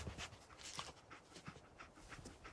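A dog in the Fallout 4 video game pants steadily and closely, rhythmic quick breaths repeating throughout with no talk.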